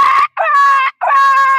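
A human voice imitates puppies whimpering from the cold, giving three drawn-out, high, tonal whines separated by short gaps, loud and close.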